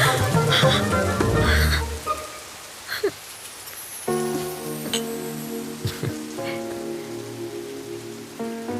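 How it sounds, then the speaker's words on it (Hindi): Heavy rain pours steadily while frogs croak loudly nearby, with tonal hums and scattered thuds mixed into the dense downpour. "अरे बाप रे, बारिश हो रही है"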